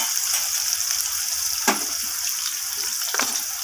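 Potatoes fry in a pan with whole spices, a steady close sizzle running throughout, with a couple of brief scraping stirs as they brown.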